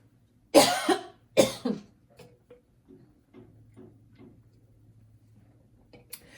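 Two loud, harsh coughs up close from someone with a lingering cough after a virus, followed by a few soft knocks and quiet shuffling in an otherwise still room.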